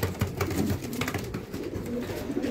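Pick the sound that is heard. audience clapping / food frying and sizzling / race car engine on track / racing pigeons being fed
racing pigeons being fed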